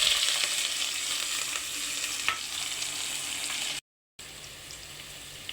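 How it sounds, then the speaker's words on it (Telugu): Green chillies, onions and curry leaves crackle in hot oil in a pan for pudina rice, a steady close sizzle with faint stirring, cut by a short silent gap before the frying noise resumes. "ఇప్పుడు మనం ముందుగా కట్ చేసి పెట్టుకున్న పచ్చిమిర్చి, ఆనియన్స్, కరివేపాకు ఇందులో వేసుకోవాలి."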